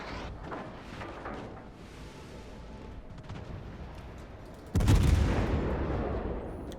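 Naval video game battle with the Soviet cruiser Moskva firing its guns: a low rumbling background, then one heavy boom that leaves a sustained roar for the last couple of seconds.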